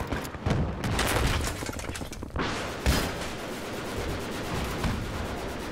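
Battlefield 3 conquest gunfight on the Damavand Peak map, with grenade launcher fire among dense overlapping gunshots and booms, a sharp burst near the three-second mark standing out from the continuous battle noise.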